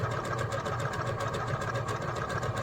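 A sewing machine stitches a maple-leaf fall garden flag, running in a steady, continuous close-up whir with a fast mechanical pulse and no talking.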